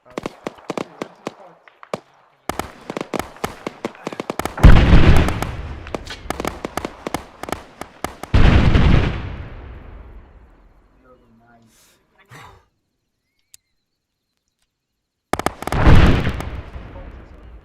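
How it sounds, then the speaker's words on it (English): Friendly artillery fire lands during a military counter-ambush training exercise: loud, dense bursts of cracks and heavy booms come in several waves, with a few quiet gaps between them. "Stand by, friendly artillery fire coming in."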